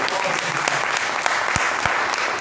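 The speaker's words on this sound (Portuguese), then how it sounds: "Você pode aplaudir o Senhor?" Church congregation applauding, a dense, sustained wash of many hands clapping at steady loudness, with a few sharper individual claps standing out.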